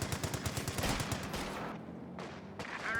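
Sustained machine-gun suppressing fire in the Company of Heroes 2 strategy game, a dense rapid rattle of bursts that thins out partway through before returning, heard at moderate level with no talking.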